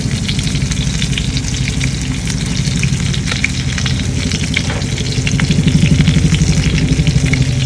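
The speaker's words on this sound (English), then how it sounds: "So into our pan, we're also going to throw" Chopped garlic frying in a hot pan at a seaweed cooking demonstration, a loud, steady sizzle that swells slightly toward the end with no talking.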